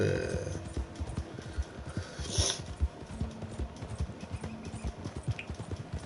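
Horse hooves clip-clopping in the Western video game Red Dead Redemption, a steady run of close, dull thuds over a low background rumble, with no talk.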